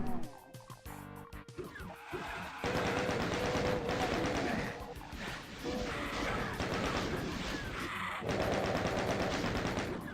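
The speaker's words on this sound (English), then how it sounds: "because I remembered there were chain gunners here" Chaingunner enemies in the video game Doom open fire with chainguns in rapid, rattling bursts that come in loud clusters over several seconds amid game noise.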